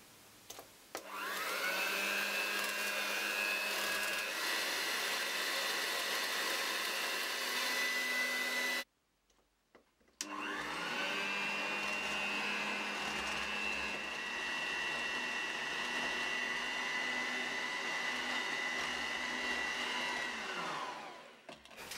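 Electric mixer beating butter and sugar for Easter cookie dough, a steady loud whirring that pauses once briefly then resumes until it stops near the end, no talk.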